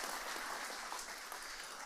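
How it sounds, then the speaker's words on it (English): A crowd at a veterans breakfast gathering applauds, a steady, faint wash of many hands clapping heard from a distance with no talk over it. "that deserves a round of applause"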